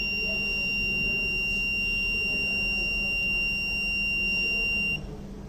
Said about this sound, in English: also give a buzzer alert